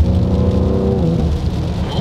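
A Ford Explorer ST automatic, tuned to about 700 hp with a full exhaust system, cruising in fifth gear: a steady, fairly muted engine and exhaust drone with faint tonal layers, ending in a brief easing off.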